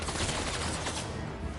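Gunfire in the Spider-Man 2 video game: a dense, continuous burst of rapid shots with a rumbling low end, loud and sustained for a second or so before easing slightly.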